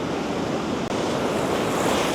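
Ocean waves wash against the shore in Cape Town, South Africa, a steady loud roar of surf with wind buffeting the microphone throughout.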